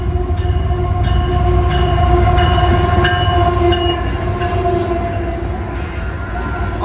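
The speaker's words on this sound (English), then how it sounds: "that sounds like an ET44 leading" CSX freight train led by an ET44 locomotive rolls past close by, a loud steady rumble of wheels and cars with a sustained horn tone layered over it throughout.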